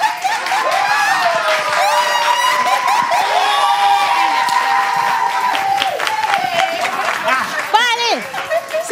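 A live show audience cheers and claps, with excited shouts and children's voices rising over a dense crowd roar that carries on throughout.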